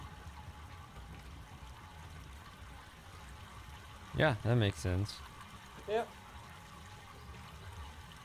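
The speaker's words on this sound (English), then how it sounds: "this new water sound does sound like a pretty weak flow" A faint, steady trickle of weak water flow runs throughout in the Myst video game, with a few brief spoken words breaking in near the middle.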